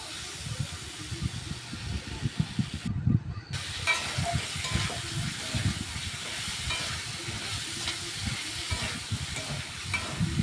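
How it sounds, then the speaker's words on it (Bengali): Pointed gourd and potato pieces fry and get stirred in a pan, giving a steady close sizzle with busy scraping and stirring clatter throughout and a brief break near the start. "তো দেখো ভেজে মেশাতে থাকছে।"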